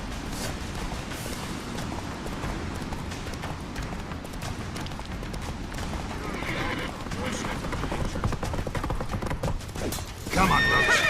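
Roach, Geralt's horse in The Witcher 3, gallops with rapid hoofbeats and neighs, mixed with game noise and rising toward a louder burst at the end.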